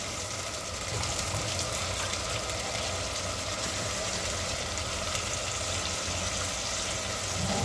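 Chopped vegetables sauté in hot oil in a pan for Maharashtrian masale bhat, giving a steady, even sizzle and hiss that runs unbroken throughout, with no talking.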